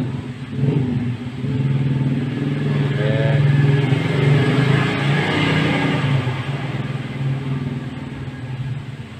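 A fuel-injected Honda CB150R motorcycle engine runs steadily during a routine service, a loud, continuous mid-pitched rumble that swells slightly as it settles into idle, heard up close with no talk.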